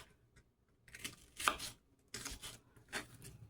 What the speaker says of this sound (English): try to cut your red onion a little bit into fine little wedges,